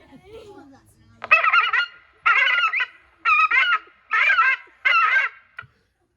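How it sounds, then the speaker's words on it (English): Five repeated harsh, wailing herring gull screams from a recording played at an airport, each about half a second long with short pauses between, loud and close after a brief low murmur. "A herring gull. Doing what? Screaming."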